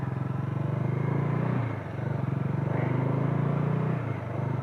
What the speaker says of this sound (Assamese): বাইকখন অকণমান চলাম